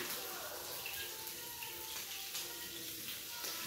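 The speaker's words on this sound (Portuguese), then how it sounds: "Vou passar uma aguinha aqui." Tap water runs steadily in a home kitchen while shrimp broth is being cooked, a soft continuous hiss filling the short clip at a fairly quiet level with no distinct breaks.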